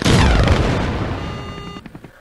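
Gunfire from the airship in the Henry Stickmin video game lands as a heavy, booming blast that rings out and fades, with a few faint pops at the end and no talk.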